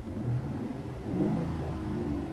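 A car engine revs as the driver presses the gas, giving a steady close low rumble that swells slightly partway through.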